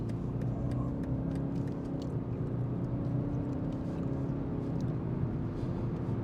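A BMW 320d G20 LCI sedan with a 190-horsepower diesel engine, in an individual sport setting, accelerates hard with the pedal floored. It makes a steady, close engine rumble and drone heard from inside the cabin, with no talking.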